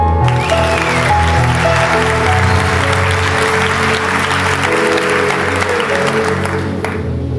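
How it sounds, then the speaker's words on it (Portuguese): Audience at a talk applauding, a dense continuous wash of clapping with some cheering layered over it, loud and close and holding steady for several seconds. "Quem pode aplaudir?"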